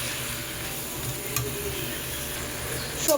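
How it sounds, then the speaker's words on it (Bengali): Spices stirred in a hot pan over a high gas flame for puin shak chorchori, a steady frying sizzle with a couple of faint utensil ticks, close and continuous with no talking. "গ্যাসের আঁচটাকে হাই করে দিয়ে এবার আমি সব মশলাগুলোকে আবার একটু ভালোভাবে নেড়ে চেড়ে নেব"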